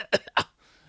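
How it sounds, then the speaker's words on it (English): Two sharp, close coughs in quick succession, followed by a faint rasp as the breath settles. "I cough."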